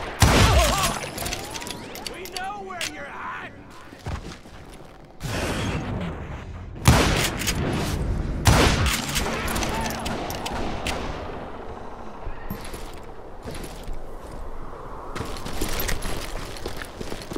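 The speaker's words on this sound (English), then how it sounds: "Kid Curry opened up on me with a goddamn Gatling gun" In a Wild West shooter game, a Gatling gun fires bursts of loud, rapid gunfire broken by sharp impacts and shattering, with brief quieter gaps, while voices speak at times over the battle.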